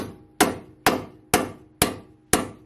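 Five evenly spaced, loud metallic hammer blows strike a bent part of a Mercedes CLK55, each with a sharp attack and a short ringing decay, repeating at roughly half-second intervals.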